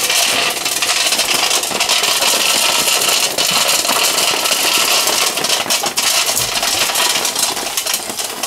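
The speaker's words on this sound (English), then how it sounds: "This will then kick on both motors." Both motors of a mushroom substrate mixing machine run continuously, a steady rattling mechanical whir with metallic clinks throughout, mixing soy hull and hardwood block material.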